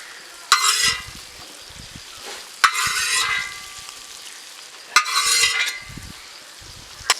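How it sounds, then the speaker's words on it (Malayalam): Cooked pork goes into a hot pan with its fat for Kerala-style pork ularthiyathu, making three loud bursts of sizzling, each dying down into crackling, with spoon clinks and scrapes between them. "ഇനി നമ്മൾ വേവിച്ച് വെച്ച പോർക്ക് ഇതിലേക്ക് ഇടുകയാണ്"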